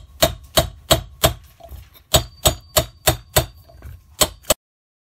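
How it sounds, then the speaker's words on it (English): Sharp metallic hammer blows strike the outer edge of a bearing about a dozen times in a steady rhythm, seating it in a casting machine, with a brief pause midway, close and ringing slightly. "Very carefully, I'm going to hammer on the outside edge only so I don't touch the inside."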